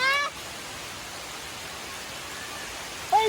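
Steady rain falls on a rainy day at a park waterfall overlook, a soft even hiss throughout, with brief bird chirps at the start and end.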